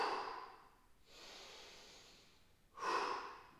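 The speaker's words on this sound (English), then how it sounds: "we're going to take 5 belly breaths here" Slow deep breathing during a mobility flow: a long airy exhale, a pause, then another strong breath near the microphone, soft and unhurried with no talking.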